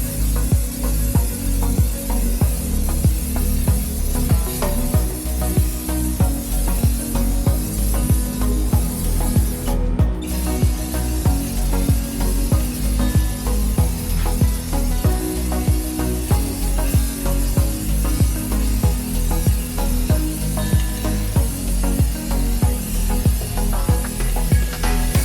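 Clear coat sprayed from an aerosol can onto an HP DL380 G7 server motherboard for moisture protection, a loud continuous hiss with brief pulsing bursts and one short pause midway.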